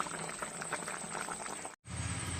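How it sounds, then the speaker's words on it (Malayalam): Pathanamthitta-style fish curry bubbles in a pot off the flame, a steady close simmering patter with a brief dropout near the end before the bubbling resumes. "എങ്കിലും കണ്ടില്ലേ തിളയ്ക്കുന്നത്."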